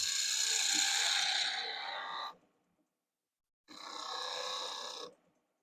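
Skew chisel taking slicing cuts in soft pine, two close, loud rasping strokes of about two seconds each, separated by a short silence.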